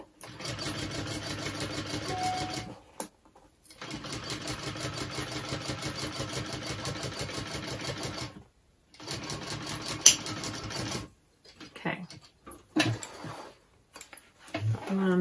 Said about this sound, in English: now I'm sewing this side